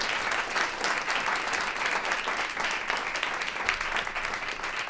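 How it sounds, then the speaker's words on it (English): Sustained, dense audience applause at a live music showcase honoring women of color, loud and continuous throughout with no talk. "So give them another round of applause."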